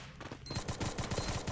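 Rapid gunfire from the Free Fire video game, a quick burst of repeated shots in a steady rhythm at moderate volume lasting just over a second.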